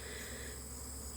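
Honeybees crowding around feeders make a dense, steady buzzing hum that is close and continuous, with no voices over it.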